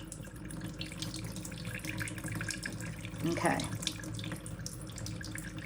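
Water poured onto a house plant, a steady running, trickling stream with a brief splashy swell near the middle, close and moderately loud, with a short spoken word in the midst.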